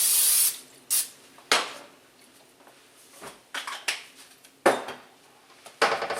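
A cooking pot is taken out and handled during chili preparation, giving a series of sharp metallic clanks, scrapes and knocks at uneven intervals, close and fairly loud with quiet gaps between.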